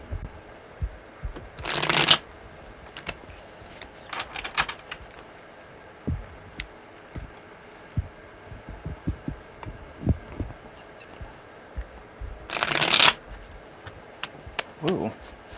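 Tarot cards being shuffled in two short, crisp riffling bursts, close and fairly quiet, with scattered light handling taps and soft background noise between them.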